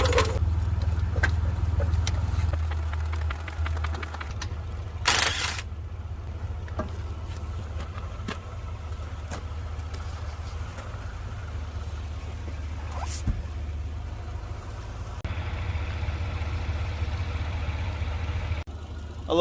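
Cars idling in a driveway while warming up before an oil change, a low steady engine rumble running throughout with faint clanks and shop sounds.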